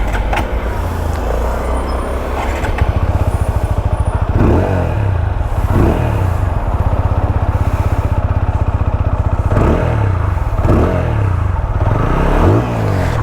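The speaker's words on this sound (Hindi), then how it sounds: "उससे पहले जो मैं आपको इसका एग्जॉस्ट सुना दूं" A TVS Apache RTR 200 4V motorcycle, a 2021 BS6 model, revs its exhaust hard and close in repeated throttle blips that swell and drop off, with a loud, steady engine drone between them.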